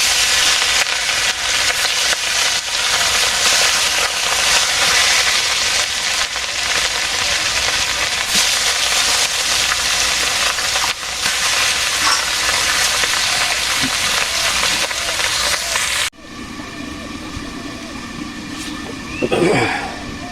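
Mustard oil frying in a pan as a dish of potatoes and drumsticks with rohu fish is cooked, a steady loud broadband sizzle that drops abruptly to a quieter hiss with clinks of stirring near the end.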